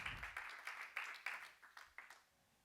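A church congregation claps together in a faint, fairly regular patter of about a dozen beats that tapers off and stops near the end.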